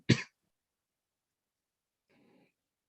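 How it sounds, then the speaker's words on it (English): A single short, sharp cough from an adult bursts out loudly at the start, followed by a long silence and a faint, brief rustle near the end. "I have a bit of a cough"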